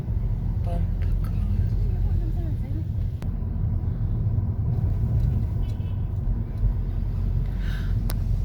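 Car driving on a shopping trip, a loud steady low engine and road rumble running throughout with faint rattles and brief clicks, no clear talk over it.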